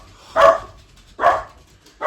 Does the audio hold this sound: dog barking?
yes